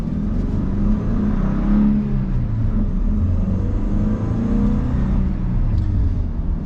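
A 2021 Toyota Hilux Workmate with a 2.7 litre petrol engine accelerates. A loud, steady engine rumble and drone rises under load and continues the whole time, with no talking.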